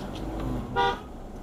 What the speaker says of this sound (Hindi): चल भाई, हॉर्न दे, हॉर्न दे।